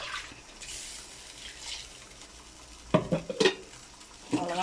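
Quiet scraping and sloshing of a spoon stirring thick kurma in a pot, with a few louder clinks and scrapes near the end.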